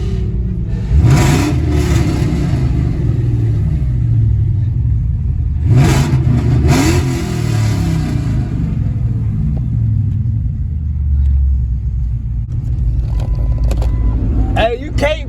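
A car with long-tube headers, a Bassani X-pipe exhaust and a blow-off valve revs at a Houston car meet. Two loud, close rising throttle blips stand over a constant deep rumble, with people talking nearby.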